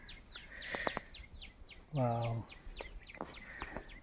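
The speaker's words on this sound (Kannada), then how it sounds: "ಹಕ್ಕಿಗಳ ಚಿಲಿಪಿಲಿ ನಾದ." Small birds chirp and tweet on Muneshwara hill near Kanakapura, with quick, bright calls scattered across a few seconds in open outdoor air while a person briefly exclaims.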